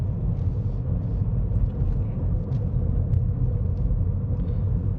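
A car engine pulls steadily up a hill during a UK driving test route, giving a low, continuous rumble heard from inside the cabin at an even level throughout.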